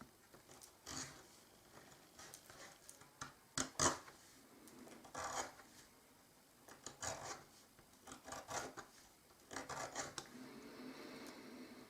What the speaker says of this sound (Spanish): Vamos a ir cortando y quitando madera.